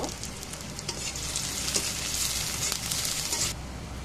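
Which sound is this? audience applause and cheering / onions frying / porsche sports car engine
onions frying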